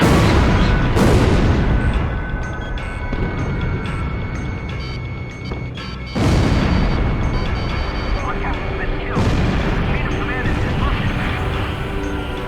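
Bombs exploding on the ground in the video game Ace Combat Zero, three heavy booming blasts spaced several seconds apart over a constant roar of aircraft and battle noise, with voices over it.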